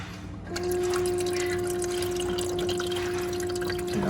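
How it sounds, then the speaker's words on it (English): An Igloo ICEB26HNAQ countertop ice machine in self-cleaning mode starts up and cycles water, a steady mechanical pump hum with trickling, dripping water running continuously. "You can hear it cycling water through the things."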